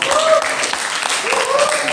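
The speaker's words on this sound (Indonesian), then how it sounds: "Tepuk tangan dulu." Applause from a classroom of students, a dense patter of clapping that fills the short moment at close range, with children's voices mixed in.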